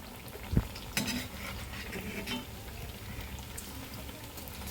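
Urad dal dosa cooking on a pan over the fire, giving a soft continuous sizzle and hiss with a couple of brief clinks from a utensil early on.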